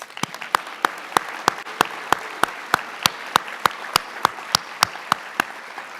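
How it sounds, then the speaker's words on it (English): A senior awards night audience applauds, a soft bed of clapping under a run of loud, evenly spaced sharp claps that keep a steady beat throughout. "Please give them applause."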